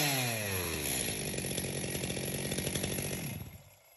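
Stihl MS 361 chainsaw engine running close up, a loud buzzing two-stroke drone with dense harmonics that revs briefly and holds steady, then cuts off and fades in the last half second.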